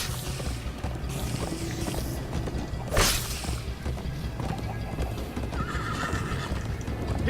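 Minecraft Story Mode horse galloping with steady clip-clop hoofbeats and a loud whinny partway through, the riding sounds continuous under game music.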